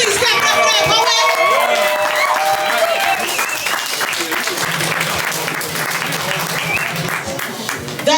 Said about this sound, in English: Please clap it up for that poet.